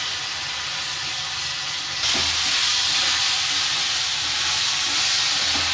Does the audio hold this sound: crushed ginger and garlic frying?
yes